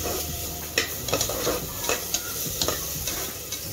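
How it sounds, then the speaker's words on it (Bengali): Chopped vegetables and cumin sizzle steadily in a hot pressure cooker, with several sharp scraping stir strokes clattering over the constant hiss. "আমি এখানে জিরে ফোড়ন দিয়ে দিচ্ছি, আর ওর জন্য কেটে রাখা সবজি দিয়ে দিচ্ছি"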